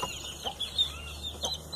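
Chickens cluck softly in a coop with young chicks, short repeated clucks and chirps scattered close by over a quiet background.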